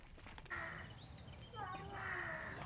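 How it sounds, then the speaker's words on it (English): A crow caws loudly and close by on an outdoor walk, with other birds calling around it, in two bursts of harsh calls over steady background noise. "You can observe all the bird sounds and insect sounds."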